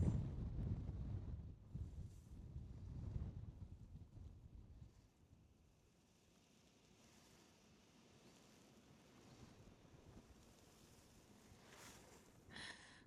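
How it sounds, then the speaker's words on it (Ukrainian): Strong wind buffets the microphone on a frozen lake during ice fishing, in heavy low rumbling gusts, loudest at the start and easing into a steadier outdoor rush. "дуже дує вітер"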